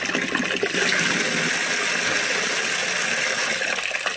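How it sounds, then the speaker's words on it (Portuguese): Water rushes steadily from an opened tap during a household water-saving demonstration, a loud, continuous gushing that holds unchanged with no talk. "Nós podemos então abrir a torneira."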